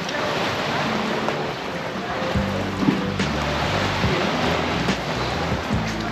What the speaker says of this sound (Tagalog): medyo humina na nga yung alon kanina. Ang lakas talaga.